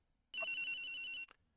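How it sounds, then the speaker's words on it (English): An electronic telephone ringtone from the video game Ace Attorney Investigations, a single steady high-pitched ring lasting about a second, loud and clear with no talk. "the ringing is coming from somewhere around here"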